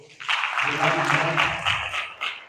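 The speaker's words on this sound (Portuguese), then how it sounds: "E eu queria que todos vocês recebessem o Edvan com uma salva de palmas, por favor" Audience applause greets a chemistry teacher at an ENEM intensive-review class in Cristalina, Goiás, a dense, sustained wash of clapping mixed with cheering voices that holds steady for a couple of seconds.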